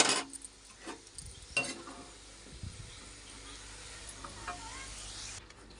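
Onions deep-frying until crisp in hot oil for biryani give a steady close sizzle, with a few clanks of a utensil in the pan and no talking.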